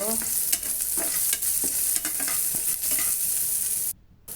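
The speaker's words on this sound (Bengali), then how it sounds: "এখন লাড়া দিব।" Red amaranth greens with green chili, garlic and onion being stirred in hot oil: steady sizzling broadband frying with repeated scraping stir strokes, close and loud, then a brief drop to near-silence at the end.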